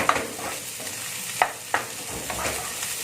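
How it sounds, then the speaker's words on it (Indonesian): Finely sliced tempe stir-fried in a pan, a steady sizzle punctuated by a few distinct clacks and scrapes of the spatula, close and alone. "Nah, kita tumis sampai bau langu tempenya hilang"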